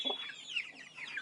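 Chickens cluck and chatter close by, a short burst of several overlapping hen calls on a farm where the birds are fed millet and rice.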